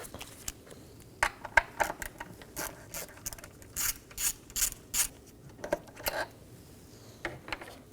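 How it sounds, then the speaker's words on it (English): A socket ratchet clicks in short, irregular bursts while removing an 8mm bolt on a Dodge Durango, close and crisp against a quiet background. "Now with those loosened, I'm going to remove this 8mm bolt."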